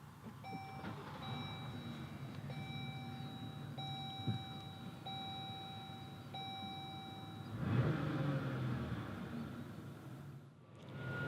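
Inside a 2018 Chrysler Pacifica S, a series of electronic chimes and beeps sounds first. Then the push-button start brings a short starter whir and a low engine catch, followed by a quiet idle.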